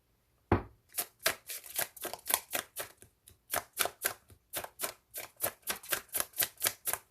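Tarot cards are shuffled by hand, giving a close run of about twenty crisp, rhythmic slaps and flicks after one sharp opening snap, with no talking.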